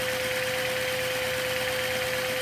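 A Lego 3-cylinder U-configuration vacuum engine with two parallel crankshafts running, giving a constant loud mechanical whir with a steady whine and no changes in rhythm, heard alone without speech.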